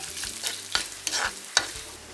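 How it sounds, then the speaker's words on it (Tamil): Cumin seeds dropped into hot ghee on a switched-off stove for Jaffna-style dhal curry, giving a soft steady sizzle with light scraping stirs and small ticks close by. "சரி, இதுக்குள்ள இந்த சீரகத்தை போடுங்க."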